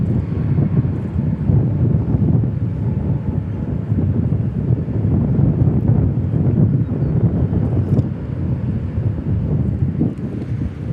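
Strong south wind buffets the microphone at DFW Airport, a steady loud roar with low rumble that holds for the whole stretch, swelling and easing slightly without pause.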